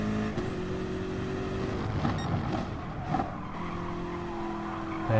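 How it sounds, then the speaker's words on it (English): Race car in Gran Turismo Sport drifting through a fast right-hand corner, a steady engine drone with scrubbing tire noise and brief skid bursts under it. "he just seems to be drifting a little through this fast right-hander"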